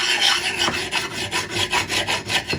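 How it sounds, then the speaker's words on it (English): A diamond file rasps back and forth across the cheeks of a vintage axe head, a steady rhythm of about eight close, loud gritty strokes with no talk. "I'm just really trying to file those cheeks down"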